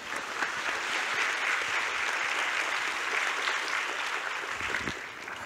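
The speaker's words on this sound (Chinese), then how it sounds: "掌声欢迎谢文宪老师" Audience applause welcoming lecturer 谢文宪 on stage at a Tianxia Culture spring lecture event: sustained, dense clapping from a sizable crowd, steady and even for the whole stretch with no break.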